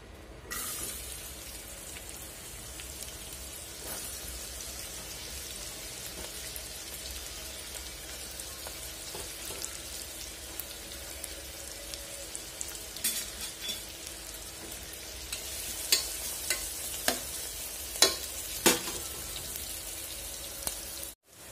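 Onions frying in hot oil for a kidney bean curry, a continuous soft sizzle with occasional spoon scrapes and knocks of stirring that grow louder near the end, no talking.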